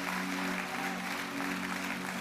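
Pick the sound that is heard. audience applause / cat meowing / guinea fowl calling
audience applause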